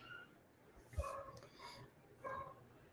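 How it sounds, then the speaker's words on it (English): A small puppy gives a few faint yips and short barks, spaced irregularly over quiet room noise at a distance. "Looks like your dog is barking."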